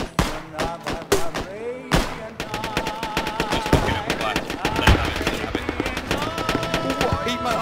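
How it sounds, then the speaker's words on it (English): Dense gunfire in the military shooter game Squad, rapid bursts of automatic rifle and machine-gun shots crackling loud and close, continuous and overlapping across the whole stretch. "Just fucking open fire."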